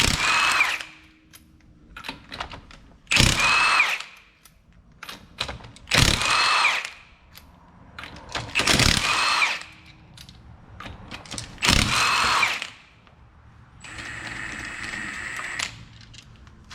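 Several short bursts from a power tool or impact gun loosen aftermarket lug nuts on a car wheel, each burst sharp and close with pauses between them, and a longer buzzing run at the end.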